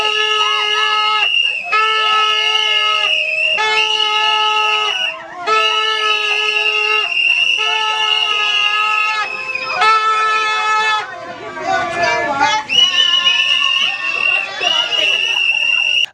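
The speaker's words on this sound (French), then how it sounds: "pousser les cris de joie, accompagnés des coups de sifflet" Shrill, sustained whistle blasts layered over a crowd's excited shouting and cheering after a student's thesis defense, loud and nearly continuous with a brief dip near the end.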